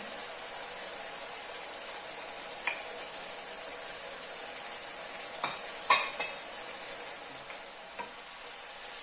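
Red kapya peppers, green peppers and mushrooms sautéing in a pan for chicken penne sauce: a steady, soft hiss of sizzling broken by a few light clinks of a utensil.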